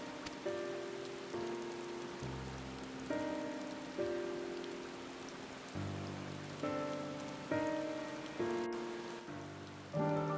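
Steady rain falling in Final Fantasy XIV, a soft continuous patter on surfaces beneath a calm game music score with held chords, no talking.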